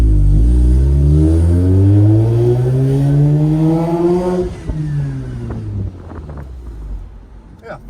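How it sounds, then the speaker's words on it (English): A muffled Mazda RX-8 titanium exhaust rev, heard from inside the cabin, climbs steadily for several seconds, then cuts off and settles into a quieter rumble. "let's hear what it sounds like inside the car."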